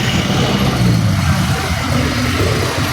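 Jeepneys and other traffic moving along a busy street in Divisoria, Manila, a steady low engine rumble with mild revving, fairly close and continuous, with no voices over it.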